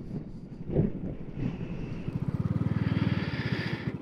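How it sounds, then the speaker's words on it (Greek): Strong wind blows at a small beach on Karpathos near the airport, with heavy rumbling gusts buffeting the microphone that turn into a rapid, throbbing flutter in the second half. "Ρε, φυσάει πολύ."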